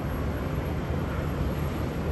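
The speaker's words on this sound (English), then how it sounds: "This is a Delta A350-900XWB flying from Los Angeles" Delta Airbus A350-900 airliner at Sydney Airport, a steady broadband jet roar holding even and loud throughout with no break or voices.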